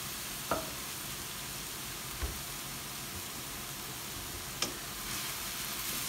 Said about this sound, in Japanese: 時間を短縮するためにどうするかっていうとです ねもう先にここで炒めちゃえということなんですよ